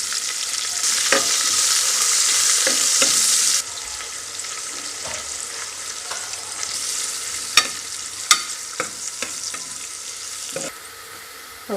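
Chopped onions sauté in a hot pan for paneer biryani, a loud steady sizzle with frequent spoon scrapes and clicks against the pan, easing slightly after the first few seconds and continuing alone.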